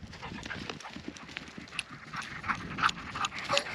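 Quick patter of paws over ground with panting and jingling, as dogs run past fairly close, busy and irregular throughout.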